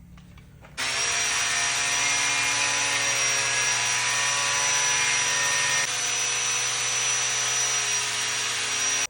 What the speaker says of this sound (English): So we're going to use an aggressive wire wheel.